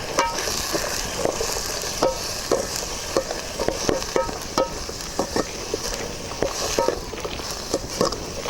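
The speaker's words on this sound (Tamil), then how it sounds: "தண்டு நல்லா ஒரு 2 வதக்கி விடுங்க." Banana stem sautéing in a pan, repeated scraping stir strokes at a steady rhythm over a continuous sizzle and crackle, close and fairly loud, with no talking.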